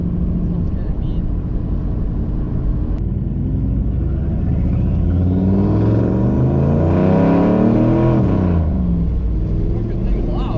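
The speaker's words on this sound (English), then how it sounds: "Sounds like a freaking turbo." A truck engine fitted with a new turbo and muffler revs up, building from a deep rumble to a loud, rising roar with a whistling top end that peaks and then falls away.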